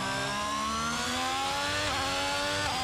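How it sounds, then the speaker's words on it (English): A Formula 1 car engine in the racing game F1 22 whines in a steady, high-pitched drone, its pitch dipping briefly once, loud and continuous with no talk. "I hear a motor revving."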